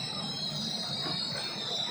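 A Mumbai fast local train rolls into a station platform, a steady continuous rumble of wheels and carriages with a bright high metallic whine running throughout, no voices over it.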